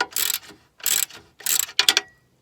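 Ratchet loosening a 16 mm torque arm bolt on a Mini Cooper S R56, four quick bursts of close, crisp clicking separated by short pauses.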